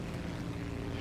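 A propeller aircraft engine in War Thunder gives a low, steady drone as the throttle opens. It stays even and fairly quiet for a brief moment, with no voices.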